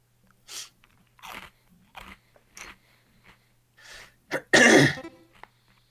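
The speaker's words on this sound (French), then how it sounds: "J'entends des bruits de croustillance." Crunchy crisps being bitten and chewed close up, with several separate crunching bites spaced out and a louder, longer crunch near the end, over a faint steady hum.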